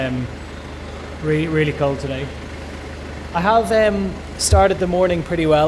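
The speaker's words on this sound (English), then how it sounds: "The van is running in the background" A van's engine idles in the background to warm up on a cold morning, giving a steady low rumble that runs beneath a person talking throughout.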